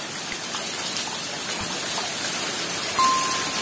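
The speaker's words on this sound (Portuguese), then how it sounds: "É chuva que não acaba mais, olha." Heavy rain pours down steadily in a garden setting, a dense, continuous hiss of drops on surfaces with no pauses, close and loud throughout.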